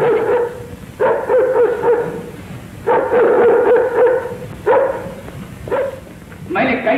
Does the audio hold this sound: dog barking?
yes